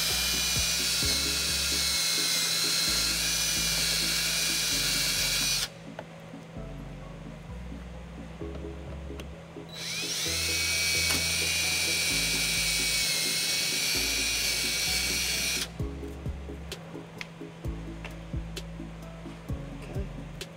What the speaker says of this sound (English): I go ahead and just drill some holes right through it